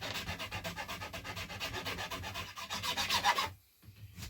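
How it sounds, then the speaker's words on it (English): Wood being sanded on an English longbow build: steady back-and-forth rubbing strokes, close and loud, in a regular rhythm that breaks off briefly near the end. "Bring it to a point where I can sand it, about 8 levels of sanding."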